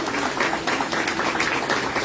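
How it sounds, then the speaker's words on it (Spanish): A graduation crowd at the Instituto Oficial San Buenaventura applauds a young technical baccalaureate graduate in accounting and finance, a continuous, even wash of clapping from many hands. "Aplauso también para recibir a esta joven"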